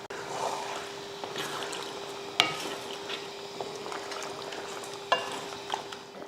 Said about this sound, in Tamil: தண்ணி ஊற்றினதுக்கப்புறம் கொதிக்குது.